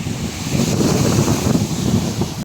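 Sea waves break continuously on the Alexandria coast during the first day of a winter storm with heavy rain, waves of two to three metres, mixed with gusting wind buffeting the microphone as a steady, close roar.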